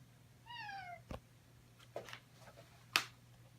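A cat meows once in the background, a thin drawn-out call, followed by a few scattered faint clicks and taps in an otherwise quiet room with a low steady hum.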